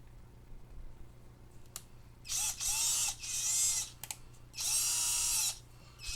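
A 12-volt lithium-ion cordless drill, newly unboxed, whirs close up in three bursts of about a second each, spinning up and winding down between pauses with faint clicks of the trigger and chuck.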